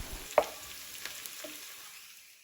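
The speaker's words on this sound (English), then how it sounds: "Close it and cook the tomatoes till the tomatoes are nicely" Tomatoes cook in oil in a covered pan for a Kerala chicken dum biryani, giving a faint, soft sizzle with one sharp metallic clank early on before the sound quietly tapers away.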